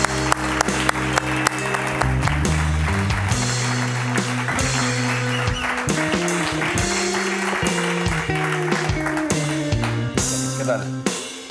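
An audience applauds in a sustained wash of clapping over loud stage music with steady beats, the cheering crowd continuing for several seconds.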